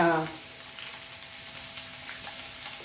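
French beans fry in a hot pan for Chinese beef fried rice, giving a steady, close sizzle that holds level throughout, with a brief louder clatter at the very start.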